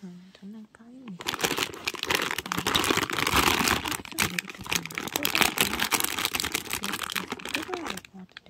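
Plastic packaging on a Daiso miniature bakery toy set crinkles and rustles almost continuously for several seconds, close to the mic, with a person speaking briefly just before and after.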